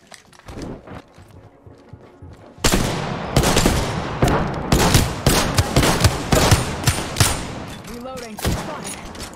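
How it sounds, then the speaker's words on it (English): Dense rapid gunfire in a battle royale shooter game, with quieter shots first and then a loud sustained stream of sharp overlapping reports nearby, mixed with footsteps and short voice sounds. "Getting shot, boys."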